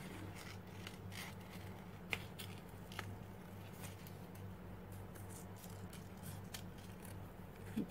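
Scissors trimming the edges of a paper template cut from a cereal box for string art, giving soft, scattered snips and crackles over a steady low hum, fairly close and quiet, with no talking.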